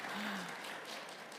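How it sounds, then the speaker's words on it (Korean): Applause from a mock public-sector debate interview audience for the four participants, a short dense burst of clapping up close, with a brief voice sound near the start. "여러분들의 큰 박수와 격려 부탁드리겠습니다."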